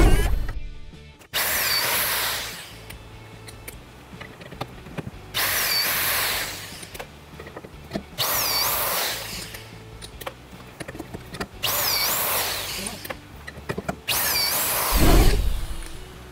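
Power tool driving twist-off tension control bolts, several loud whirring bursts of a few seconds each separated by short pauses, close up, with no talking.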